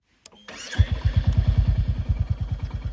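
A 2024 Royal Enfield Bullet 350 motorcycle engine cranks briefly and fires up, settling into a loud, close, steady single-cylinder thump with a regular pulsing beat and no talking.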